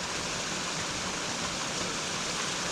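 The Capilano River runs shallow over a small waterfall, a close, steady, full-bodied rush of tumbling water with no pauses and no voices.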